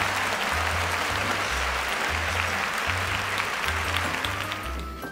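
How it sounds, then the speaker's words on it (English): A steady wash of audience applause plays as an added clapping sound effect, dense and even throughout, over a pulsing low musical beat that eases off near the end. "Put a clapping sound effect."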